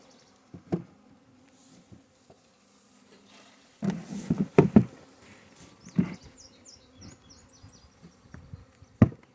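Honey bees buzz around an active hive just after a 5-frame nuc is installed into a brood chamber, a faint hum punctuated by louder close buzzing passes and a few thumps, with no talk.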